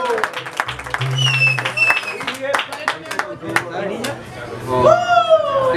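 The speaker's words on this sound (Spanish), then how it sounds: "Ese aplauso." Applause and cheering at a birthday party with a youth mariachi band, clapping mixed with crowd chatter, children's voices and a loud voice speaking over it, busy and close.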